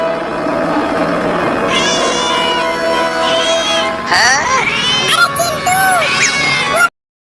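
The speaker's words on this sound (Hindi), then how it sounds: "वो बिल्ली और उसके दोनों बच्चे हमारे पीछे पीछे आ रहे हैं।" A cat and her two kittens meow repeatedly in a string of rising and falling calls, fairly close and loud over steady background noise, the cries growing denser toward the end before cutting off abruptly.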